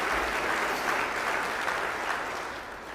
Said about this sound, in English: Let us acknowledge the hotel staff for their service today with their round of applause.